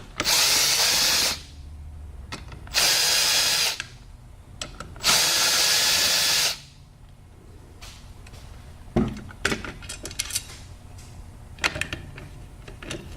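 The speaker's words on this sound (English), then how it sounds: "we can continue to remove the remaining four screws." A power screwdriver backs screws out of a TMIII piston end cap in three loud, close whirring bursts of a second or two each, followed by quieter clicks and metallic handling noises.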